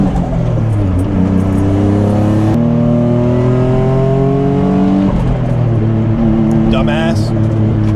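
A boosted Nissan 350Z's engine revs loudly while driving, climbing in rising pitch sweeps with gear changes around the middle, a steady close drone with a brief higher whine near the end.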